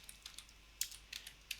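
Fingers tap out a quick, irregular run of keystrokes on a computer keyboard, close and quiet, with clusters of clicks separated by brief pauses and no talking.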